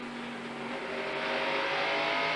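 A NASCAR race car accelerates, its engine a steady, bright roar that builds slightly over a couple of seconds.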